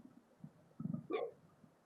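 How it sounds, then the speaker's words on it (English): A single short, low burp from a man, fairly quiet and close, preceded by faint rumbling throat sounds. "oh, excuse me, I had to burp"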